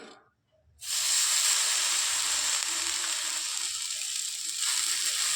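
Semolina batter poured onto an oiled tava, breaking into a loud, steady sizzle that starts abruptly after a brief quiet moment and hisses on evenly to the end.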